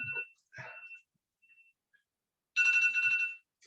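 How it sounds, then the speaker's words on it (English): A mobile phone ringtone sounds during a city council meeting: a clear, loud burst of bright electronic tones with a rapid warbling pattern, heard just after a brief stretch of speech in the room. "Could somebody please turn off their phone?"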